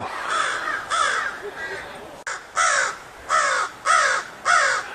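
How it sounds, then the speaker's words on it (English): A crow caws repeatedly outdoors beside an RV at a state park campground near Gaylord, Michigan, about six harsh calls in short bursts with brief pauses, fairly close over faint background noise. "I think that crow was outside of our RV all night last night, making that noise"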